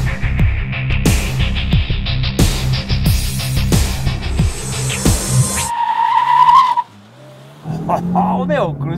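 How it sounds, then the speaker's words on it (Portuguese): A Chevrolet Cruze 1.4 launches hard from a standstill with its tires spinning and squealing against the pavement under a loud, rising engine, then the tire screech fades to a lower hum with a voice heard at the end. "o Cruz saiu patinando"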